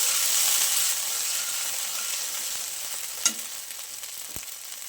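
Ginger and chilli paste sizzles and fries in hot oil over a low flame, a steady close crackling hiss with a brief clink of a utensil partway through.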